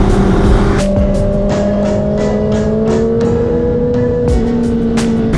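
Kawasaki Ninja superbike engine droning loud and steady on a highway group ride with other superbikes, holding a sustained tone that shifts slightly in pitch, with brief bursts of wind buffeting throughout.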